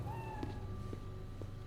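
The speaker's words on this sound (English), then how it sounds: "The kitty is just making this scene." A cat meows in a short tonal call, followed by faint clicks and soft thumps over a low background hum in a video game scene.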